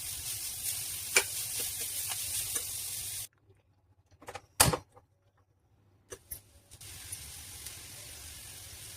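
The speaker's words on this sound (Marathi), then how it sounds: "आता आपल्याला ह्याच्यात ठेचून ठेवलेला फणस घालायचा आहे आणि एकदा परतून घेऊया" Crushed tender jackfruit with turmeric sautéed in a pan for a Goan sabji gives a steady hiss of sizzling. The hiss breaks off for a few seconds of spoon clinks and stirring knocks, then resumes.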